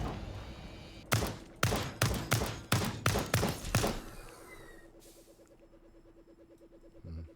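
Turret gunfire in the video game Lost Skies: a fast run of about eight loud, sharp shots, closely spaced over three seconds, then a lower mechanical hum with a rhythmic ticking that continues underneath.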